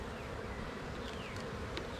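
Honey bees buzz around an open hive frame, a faint, continuous droning hum with no talk and occasional brief louder passes from single bees.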